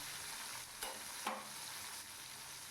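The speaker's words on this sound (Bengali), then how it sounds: "এইভাবেই মাছগুলোকে ভেজে নেব" Prawns, rubbed with salt and turmeric, fry steadily in hot oil for a Bengali potol chingri dish, a continuous broadband sizzle with a couple of brief utensil scrapes and stirs, no talking.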